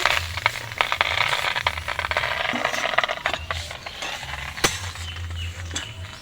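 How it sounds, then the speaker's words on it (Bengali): Leaves for a bhorta are stirred in a pan, a dry rasping scrape with rapid rattling strokes that carries on close and steady, with a low hum running underneath. "এবারে পাতাটা আমি একটু নাড়াচাড়া দিয়ে নেব"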